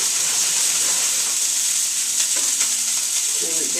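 Food sizzling and frying in a hot pan, a loud continuous hiss with faint crackles throughout, close up and alone.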